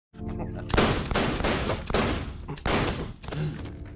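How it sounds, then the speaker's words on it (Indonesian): Pistol shots ring out in a movie scene, several loud sharp bangs in quick bursts one after another, dense and close, with a brief gap between volleys. "Namun ternyata Jack malah melepaskan tembakannya ke arah Michael"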